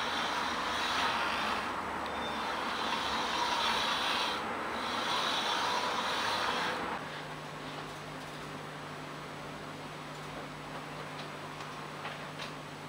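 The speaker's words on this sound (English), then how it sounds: "This is the first test run of the X-axis." A homemade laser cutter's X-axis carriage on its first test run, giving a steady mechanical ticking and whirring drive noise with a high whine; the sound shifts to a quieter, lower-pitched hum partway through.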